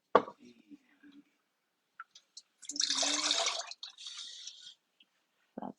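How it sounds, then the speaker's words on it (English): Pottery glaze dripping from a tilted piece into a pot, a spattering liquid patter that swells to a steady trickle in the middle, then thins to a few scattered drips, close and fairly soft with a faint voice nearby. "So here I am and then I back it off so the drip goes inside."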